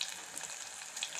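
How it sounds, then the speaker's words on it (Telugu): Green chillies frying in a pan of oil for coconut rice, giving a steady soft sizzle heard alone at low volume. "ఇప్పుడు పచ్చిమిర్చి వేసుకోవాలి। ఇది వేగుతూ ఉండగానే"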